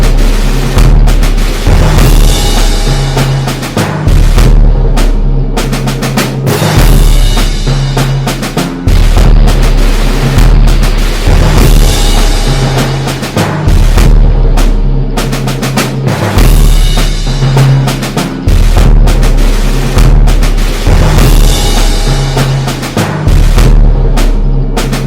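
Civilians firing guns in rapid succession, burning off ammunition in dense overlapping bursts of loud booming shots that continue steadily with almost no pause.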